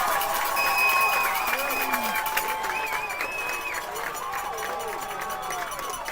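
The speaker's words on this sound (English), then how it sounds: "and listen to the crowd." A softball crowd at a Division 3 state quarterfinal playoff game cheers and applauds steadily after a home run, with a broad, sustained roar and whistles while a commentator talks over it.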